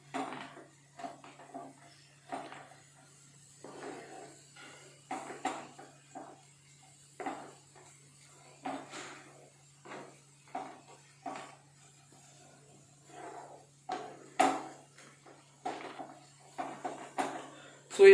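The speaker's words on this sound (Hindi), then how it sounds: "हम लोग साथ साथ में टमाटर को मैश भी करते जाएंगे" Tomatoes being mashed in a cooking pan during home cooking, with repeated scraping and knocking clatter of a utensil against the pan. The bursts come in an irregular rhythm under intermittent speech.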